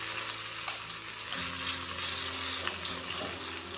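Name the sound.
batter spread on hot oiled pan, sizzling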